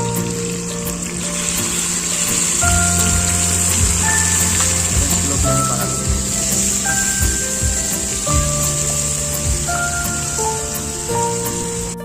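Mutton hits hot oil and sizzles in a dense, continuous crackle that runs steadily and close throughout, with faint clinks and kitchen hums underneath.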